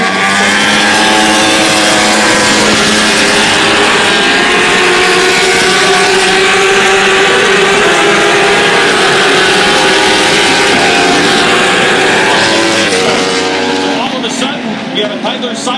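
Superbike motorcycles racing at Road America, Elkhart Lake, Wisconsin: a loud, continuous high-revving engine roar that fills the whole stretch, with pitch shifts as bikes pass close by before it drops away near the end, under occasional voices.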